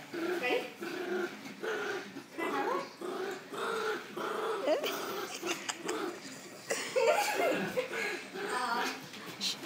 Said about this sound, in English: Let her growl.